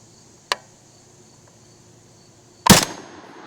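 5.7x28 rifle fired into ballistic gel outdoors: a faint distant crack first, then one loud sharp shot with a short ringing tail, over steady insect chirping.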